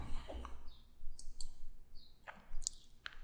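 Computer mouse clicks while managing files, several crisp short clicks spread irregularly across a quiet background, close to the microphone.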